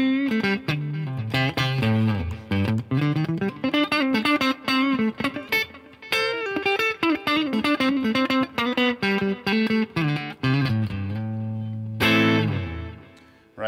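Electric guitar notes and short melodic phrases played through a Fender Tone Master Pro '65 Deluxe Reverb amp preset, clean and sustained with reverb, ending on a held chord.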